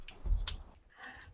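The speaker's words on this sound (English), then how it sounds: "You can hear him clicking." Mouse clicks from someone deleting files at a computer, a few quick sharp clicks scattered over a second and a half, faint and close with no talk.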